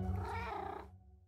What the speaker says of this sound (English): It's a Minecraft square cat.